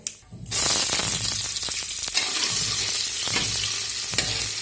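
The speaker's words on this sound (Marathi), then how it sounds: "आता आपण त्यामध्ये कांदा टाकूया." Onion tipped into hot oil already holding cumin and mustard seeds for spiced rice bursts into a loud, close, steady sizzle after a brief quiet start, with scattered pops and stirring scrapes and no talk.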